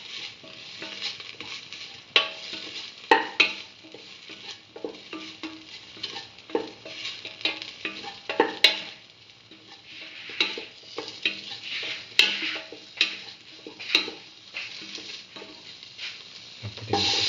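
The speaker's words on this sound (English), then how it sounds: "salt and mix mustard paste thoroughly with the rest of the mixture." A spoon repeatedly stirs and scrapes as mustard paste is mixed into a potato and rice mixture in a pan, with irregular thuds and clinks over a soft sizzle, close by and without talk.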